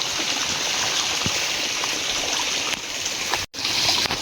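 Water flows steadily beside rice fields in a rural spot, giving a continuous hissing stream rush close by, with a brief dropout near the end.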